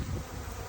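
Swarming honey bees hum in a thick, constant drone close by, brief and unbroken, with no voices.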